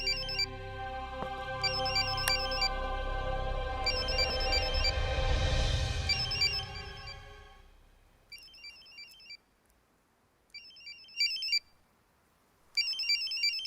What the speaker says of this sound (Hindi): कोई फोन बज रहा है।